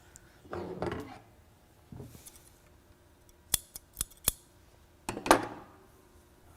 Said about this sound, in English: grab the scissors